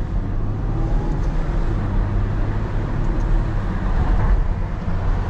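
Ferrari GTC4 Lusso V12 engine, heard from inside the cabin while the driver shifts gears gently in manual mode: a steady, loud low drone without a break, swelling slightly near the end.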